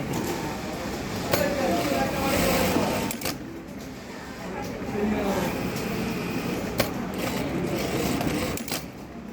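A Jack A5E industrial sewing machine with a thread-cutting knife runs with a steady, loud mechanical whir. The motor hums on, with short dips and clicks where the stitching pauses.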